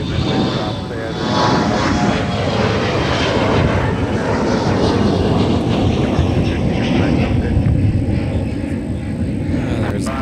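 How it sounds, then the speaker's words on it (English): An Embraer E175LR jet airliner operated for Delta Connection roars steadily at MSP airport. The rumbling engine noise is loud and sustained, and a voice talks over it. "There's Delta Connection operated by SkyWest Airlines. An Embraer E175LR off to Louisville, Kentucky."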